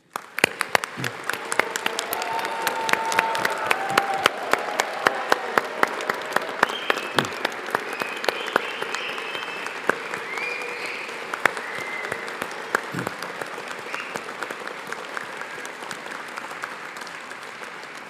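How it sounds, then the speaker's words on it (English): An audience at a Strathclyde Business School graduation ceremony gives the spring 2025 graduates a long round of applause. The crowd claps steadily and thickly for about eighteen seconds, with a few sharp, close claps standing out, and the applause slowly thins toward the end. "Let's give our spring graduates of 2025 a big round of applause."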